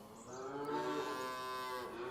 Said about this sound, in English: hungry cows